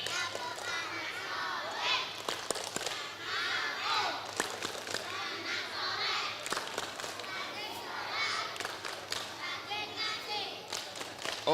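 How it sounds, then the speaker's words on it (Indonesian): Young schoolchildren at an Islamic school end-of-year celebration chant and clap together in the tepuk anak soleh routine, loud excited voices shouting in rhythm with bursts of hand claps, close and crowded. "Sekarang tepuk anak soleh ya."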